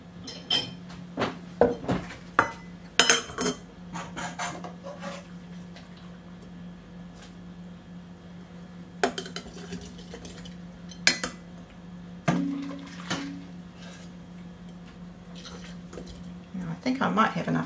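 Glass canning jars clink and clatter while pineapple is canned in a home kitchen without special equipment, with several sharp knocks in scattered bursts over a low steady hum.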